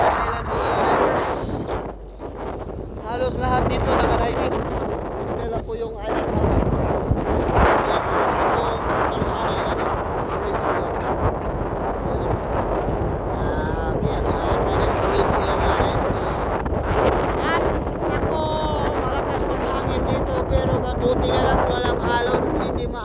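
Boat engines on the sea near Nalusuan Island and wind buffeting the microphone fill the scene with steady, loud rumbling noise, while a voice talks intermittently over the top.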